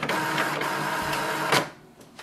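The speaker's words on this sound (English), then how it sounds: "So this way we can do the wireless printing with this printer." An HP Envy 6030e inkjet printer runs a print job over a wireless connection, its steady mechanical whirring and feeding noise holding for about a second and a half before a brief clunk and quieter tail.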